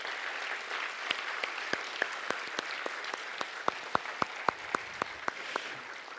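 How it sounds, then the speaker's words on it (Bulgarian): Audience applause for the organizers of an event, a soft bed of crowd clapping with a series of sharper individual claps standing out in a regular, rhythmic pattern near the microphone. "аплодисменти за организаторите на това събитие"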